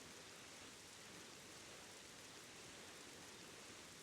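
Rain falls steadily in the video game The Legend of Zelda: The Wind Waker, a constant, even hiss of downpour with no other sounds over it.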